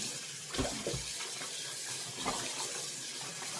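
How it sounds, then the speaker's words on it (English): Raw tripe (shaki) is washed and rinsed by hand in water, giving a few faint splashes and sloshes against a quiet background. "wash it very well, just like you're washing clothes. You have to rinse it several times"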